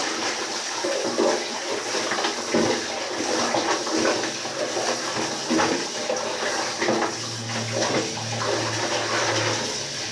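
Water splashes and pours continuously nearby, with occasional knocks and a low hum toward the end; no one speaks.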